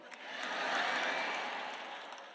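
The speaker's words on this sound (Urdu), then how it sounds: "آئیے اتنے کم نہیں بلکہ بھرپور انداز سے تالیاں بجائیں۔" A church audience applauds at a sermon, steady broad clapping that swells and then slowly fades over a couple of seconds, fairly distant and without speech.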